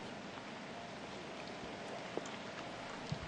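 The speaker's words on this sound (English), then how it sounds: "You can hear some rain continuing to fall here at Highland Meadows Golf Club." Steady light rain falls at Highland Meadows Golf Club, a soft continuous patter with a few scattered drips, heard without voices.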